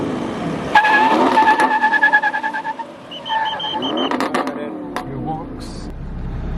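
A diesel car launching at a drag race in India, engine revving hard with a rising, pulsing roar and tire noise, then a second burst of acceleration, with voices talking over the noise.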